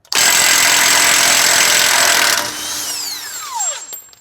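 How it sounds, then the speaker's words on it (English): An impact wrench on the front axle nut of a Range Rover during suspension work buzzes loud and steady for about two seconds, then releases and its whine winds down quickly. "I think I'm gonna get the impact on this and see if this is good enough to get it off"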